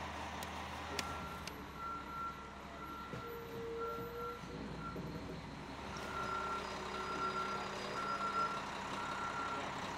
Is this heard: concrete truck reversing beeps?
yes